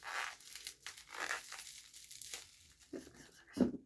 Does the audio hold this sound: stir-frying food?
no